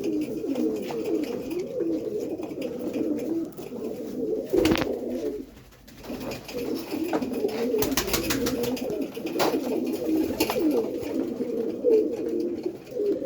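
Flying pigeons coo steadily in a loft, a continuous layered murmur of calls from several birds close by, with a brief dip in the middle and a few sharp knocks.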